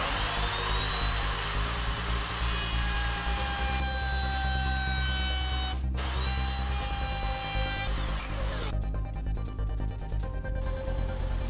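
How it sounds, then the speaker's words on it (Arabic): A wood router trimming the edges of wooden boards in a carpentry shop, a loud continuous high-pitched whine with shifting tones and brief dips as the cutter works along the wood. "وهنجيب بقى الاربع خشبات اللي عندنا ونبدا ناكل اطرافهم على الراوتر"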